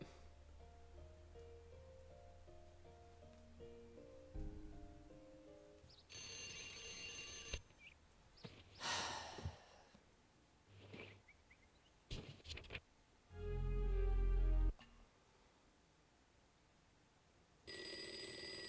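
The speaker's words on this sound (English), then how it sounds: "That's the phone." A telephone rings in the video game Shenmue: fairly quiet electronic ringing in short repeated bursts, separated by pauses and other brief game sounds, with no voices.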